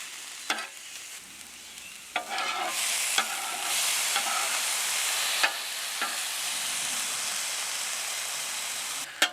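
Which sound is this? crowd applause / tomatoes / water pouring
tomatoes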